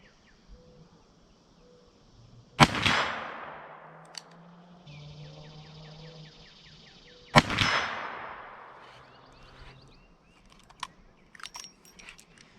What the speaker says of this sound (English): shooting from a rest like that with a pistol and from the standing, the recoil is completely different